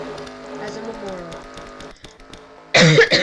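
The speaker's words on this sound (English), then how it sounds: "Sorry about coughing." A sick person coughs, a sudden loud burst of harsh, rough hacks near the end after quieter tonal background sound, heard over an online sim race broadcast of the Duracell Cup Pearl Harbor 500.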